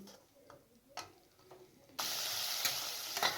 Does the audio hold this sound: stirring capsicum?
yes